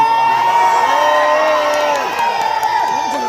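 A stadium crowd cheers and shouts excitedly after a women's tennis Grand Slam final, a dense roar with whoops and high voices, loud and continuous, with music tones running underneath.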